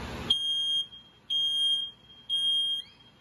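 A smoke alarm sounds three loud, piercing high-pitched beeps, each about half a second long, with short gaps between them. A brief thump comes just before the first.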